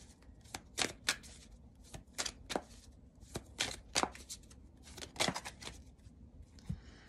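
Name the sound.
shuffling Osho tarot cards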